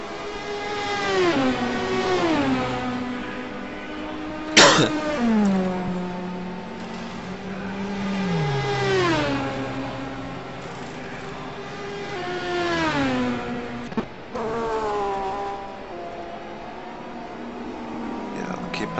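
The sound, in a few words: race cars passing at Sebring 12 Hours endurance race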